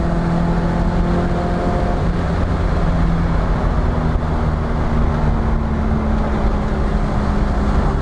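A Nissan S13 240SX, a drift car set up for grip, drones loudly and steadily through a corner with no clear break for the downshift, its engine note continuous and close throughout.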